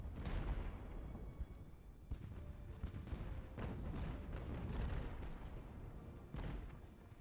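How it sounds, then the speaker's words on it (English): Mortar and artillery fire in Ultimate Admiral: Age of Sail, a dense, continuous barrage of booms with several sharper blasts standing out through a rumbling battle din. "look at my mortar hit him. And now he's backing off. And then the artillery's gonna hit him."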